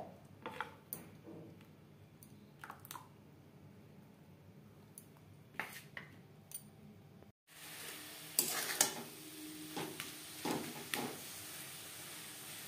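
Patishapta pitha batter is stirred with water in a large bowl, giving soft wet swishing and scraping strokes that come in bursts, with a louder, busier stretch of mixing toward the end.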